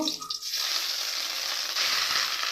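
Taro (mankochu) paste hitting hot oil in a pan, a loud, steady sizzle that starts abruptly and carries on without a break, close by and with no voices.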